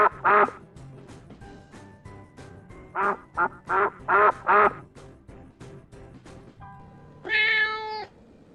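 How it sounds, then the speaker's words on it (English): Farmyard duck quacking in quick bursts of short, nasal calls, a rapid run of loud quacks near the mic, followed by a longer honking call at the end. "Duck."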